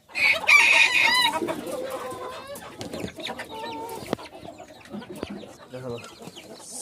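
Silkie and Brahma chickens clucking close by as a rooster crows loudly at the start, followed by scattered clucks and soft calls, with a person speaking faintly in the background.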